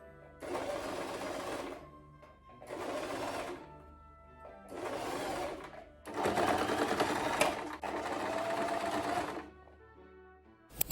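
A sewing machine stitches old denim jeans being upcycled into new clothing, running in five steady bursts of a few seconds each with short pauses between, loud and close with no talking.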